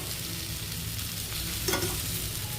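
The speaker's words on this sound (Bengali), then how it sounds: "এখানে রান্না বসিয়েছি আমি আজকে মাটির নিচের আলু" Potatoes and chunks of taro tempered with cumin and a bay leaf sizzle steadily in a pan while being stirred, with a brief scraping stir near the end, close and continuous.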